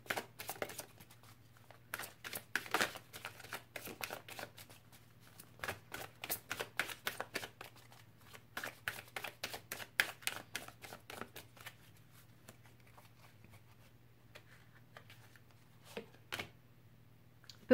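Oracle cards are shuffled and laid out for a reading: a dense run of close, crisp riffling and slapping card sounds, rapid at first and thinning toward the end, with a faint low hum beneath.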